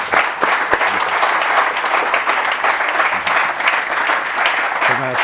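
An audience at a sustainable-finance panel event applauds, with a dense, steady clapping that carries on throughout and a few voices murmuring underneath.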